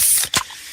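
A freshly opened can of fizzy Pepsi gives a short, sharp hiss and spray burst, near and brief, with a faint fizz trailing after it.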